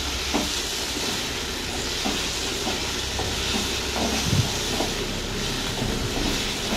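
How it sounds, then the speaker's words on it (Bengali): Mashed flat bean paste with sugar being sautéed in a pan: a dense, constant sizzle with faint scraping and stirring knocks, close and steady, no talk. "দেন আবার আমরা ভালো করে এটাকে কষিয়ে নেবো একবার"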